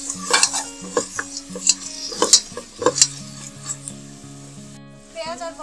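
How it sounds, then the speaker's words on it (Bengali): Whole cinnamon, cardamom, cloves and bay leaves fry with onion in a pan for a prawn malaikari, a steady sizzle broken by repeated scraping stirs and utensil clinks against the pot, with a tonal beep or music near the end. "এখন এই মশলাগুলো একটু ভেজে নেবো এই পেঁয়াজের সাথে।"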